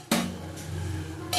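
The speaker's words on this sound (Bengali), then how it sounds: "একটু ঢাকা দিয়ে দিলাম।" A metal lid clanks down onto a cooking pot of fish with a sharp clink, then a quieter rattle and another clank near the end, with a low simmering hum between.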